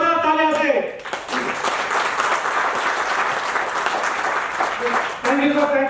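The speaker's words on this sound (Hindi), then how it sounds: "तो फिर एक बार हमारा एजुकेशन मिनिस्टर को सर जोरदार तालियां से" Loud audience applause for an education minister at a formal program, a dense steady burst of clapping that fills most of the clip, with a speaking voice before and after it.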